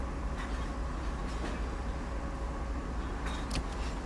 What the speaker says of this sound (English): And here is the other train coming in.